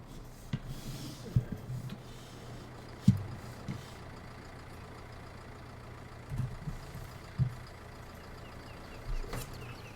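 A tractor engine in Farming Simulator 19 runs at a low, steady hum, broken by scattered rubbing and clunking noises and a brief louder knock near the end, with no talking.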